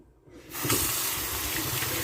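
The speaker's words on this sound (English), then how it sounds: "let me wash my hand off here" After a brief quiet moment, a kitchen sink tap opens and a steady stream of running water gushes as hands are washed, a continuous close hiss with no speech.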